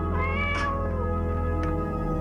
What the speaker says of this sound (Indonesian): Kucing siapa ini?